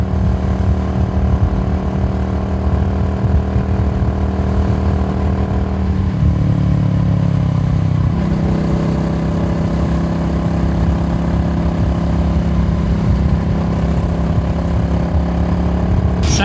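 A Kawasaki Meguro S1 (W230) motorcycle runs close by with a loud, steady exhaust note. It idles evenly, shifts pitch with a brief rev around the middle, then settles back into a continuous thrum.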